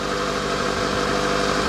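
A 1985 Honda Accord engine idles unevenly under the hood, a steady close mechanical drone with a slightly rough, irregular pulse throughout and no talking.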